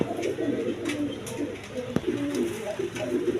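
Pigeons in a dealer's loft, including a pair of Mili colour Racer pigeons, coo softly and continuously in low, throaty murmurs with a faint background hum and a brief sharp click midway.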